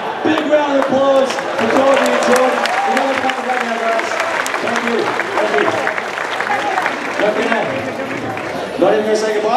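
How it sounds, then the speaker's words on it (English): Audience applause and crowd noise at a Hollywood stunt driver show, dense clapping sustained under loud overlapping voices and music-like tones for nearly ten seconds. "Big round of applause"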